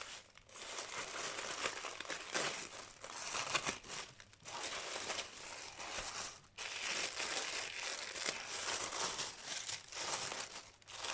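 Decorative gift wrapping paper crumpled and crinkled by hand while a present is unwrapped, a dense, continuous rustling that runs for several seconds, with short pauses.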